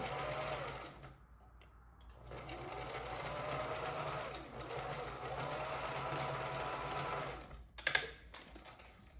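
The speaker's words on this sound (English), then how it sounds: "you sew this piece down" Sewing machine stitching fabric for a face mask, a close, steady mechanical rattle running through most of the clip with a brief pause early on.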